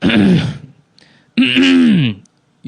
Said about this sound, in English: most people check in just to hear me clear my throat anyways